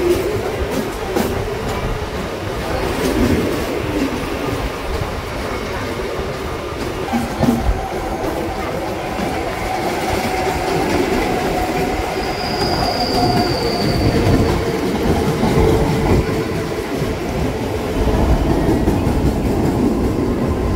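A Mumbai local train pulls out of Mumbai Central station with a steady rolling rumble, clattering wheels and a brief high squeal of wheels on rail, loud and continuous throughout with no talking.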